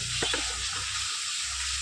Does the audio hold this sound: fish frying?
yes